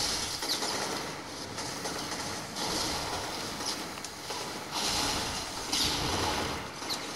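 A train runs continuously in the video game Infamous, a dense, steady rumble and clatter with faint metallic clicks throughout and no talking.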